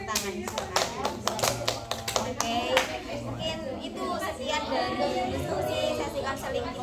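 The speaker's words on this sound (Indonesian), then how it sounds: "saya meminta untuk mengapresiasi diri teman sendiri-sendiri dengan tepuk tangan" A small counseling group claps together for one another at the end of a group CBT session, a loose patter of hand claps, fairly close, with some talk mixed in.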